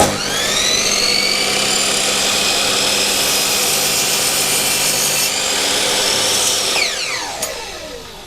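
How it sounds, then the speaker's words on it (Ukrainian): A handsaw cuts wood for a dog bowl stand: a steady, loud, continuous rasping stroke that runs for several seconds close by, then trails off as the cut finishes, with no speech. "Так що починаємо різати."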